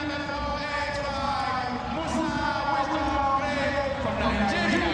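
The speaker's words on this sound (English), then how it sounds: "The crowd is building up nicely as most people close and join the stadium from work." Stadium crowd at the African Games in Accra filling in before the men's 110-meter hurdles final, heard as a steady, distant murmur of many voices beneath a commentator's talk.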